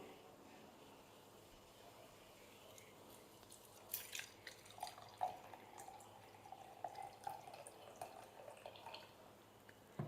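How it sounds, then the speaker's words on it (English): Hot water is poured into a container during a classroom science demonstration on heat, with a faint splashing trickle and scattered drips beginning partway through after a quiet stretch. "I am going to add hot water"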